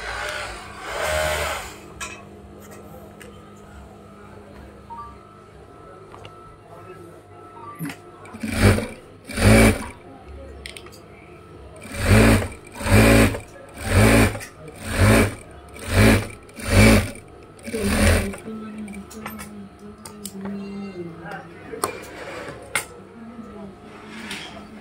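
A sewing machine stitches jeans fabric, running in a string of short, loud bursts of even length in the middle of the stretch, with quieter workshop noise before and after.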